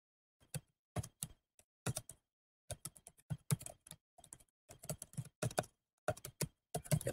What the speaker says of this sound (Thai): เดี๋ยวผมพิม พ์นิดนึงครับ